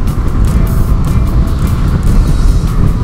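Wind and blowing dust roar steadily against a motorcycle helmet while riding a Yamaha XJ 600 through a sandstorm in Morocco, a loud, constant rushing buffet with no pauses.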